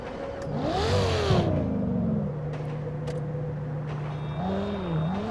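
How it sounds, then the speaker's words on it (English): A Lexus LFA in GTA 5 revs and drives, its engine and exhaust rising and falling in pitch through several throttle blips before settling into a steady drone, fairly quiet and heard alone. "Truly an exemplary exhaust note."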